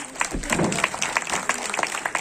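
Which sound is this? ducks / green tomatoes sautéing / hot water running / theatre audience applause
theatre audience applause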